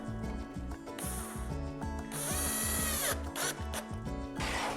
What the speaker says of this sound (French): Je peux retourner mon étagère tranquillement, visser ma tablette par l'arrière.